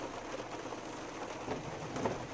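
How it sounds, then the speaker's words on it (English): Rain falls steadily outside a parked car, a faint, even hiss with soft patters on the surface and no voices. "it's raining, as you may be able to see out there"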